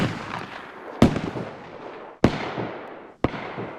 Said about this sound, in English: The 133 also has new sounds, and so does the Vega.